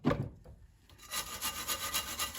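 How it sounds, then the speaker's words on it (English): A wire brush scrubs back and forth around the rear brake caliper and pad sliders of a Citroen C3 Picasso, giving a close, rhythmic scratching of several quick strokes after an opening scrape. "So we're wire brushing up in here"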